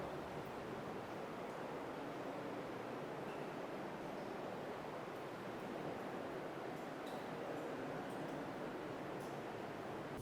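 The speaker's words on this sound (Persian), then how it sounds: "گوش کنید صدای آبشار میاد." A waterfall inside a cave near Kermanshah gives a steady, faint, broadband rush of falling water that carries on evenly without any break.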